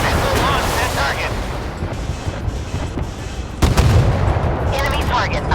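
Missile launches and impacts in a naval warship combat video game, a dense continuous roar of explosive booms and gunfire with a sharper blast burst partway through, loud and sustained throughout.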